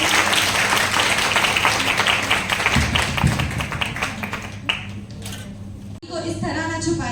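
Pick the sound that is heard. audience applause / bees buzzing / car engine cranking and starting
audience applause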